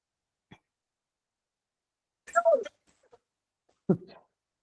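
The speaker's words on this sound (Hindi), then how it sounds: "थोड़ा सा ज्यादा खांसी हो रहा है।" A couple of short, harsh coughs close to the mic, separated by silence, with a brief click before them.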